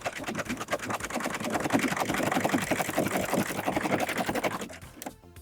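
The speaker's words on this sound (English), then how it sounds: "So we're just serging from end to end here, or sewing." Serger stitching a side seam on a sock cuff, a fast steady mechanical whir with rapid regular needle clatter running for about five seconds, close and loud, then stopping abruptly.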